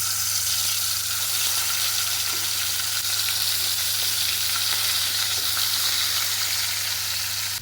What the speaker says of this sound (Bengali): চাটুতে সর্ষের তেল গরম করে মাছগুলো এখন ভাজতে দিয়ে দিয়েছি।